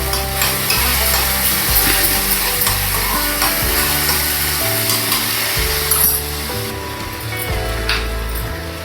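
Food frying in a pan with a loud, steady sizzle, close and continuous, with occasional stirring scrapes and no talk over it.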